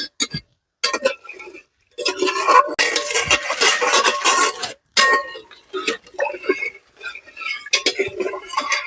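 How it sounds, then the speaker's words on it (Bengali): Rice for village-style coconut kheer stirred in a pot with a spoon, giving scraping, clinking strokes in short bursts with brief pauses between them. "চালটা হালকা করে নাড়িয়ে এবার এতে আমি পরিমাণ মতো পানি দিয়ে দেবো।"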